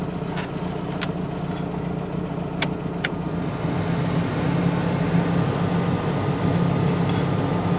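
A 1984 Toyota SR5 pickup idles steadily after a cold start on a five-year-old engine, a close, even low rumble that holds smooth and constant with a few faint clicks and no talk.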